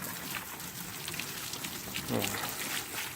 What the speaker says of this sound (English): we're just getting her all wet, spraying it everywhere